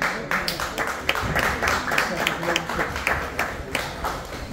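Scattered applause from a boxing match audience, a loose patter of claps running steadily for several seconds at moderate distance under a hall's background murmur.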